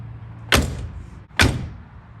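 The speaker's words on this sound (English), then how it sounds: "Now let's just make sure the doors shut okay." The door of a 1989 C4 Corvette shuts twice in quick succession, each a solid, close thump followed by a brief rattle of the panel settling, loud and isolated with no talk.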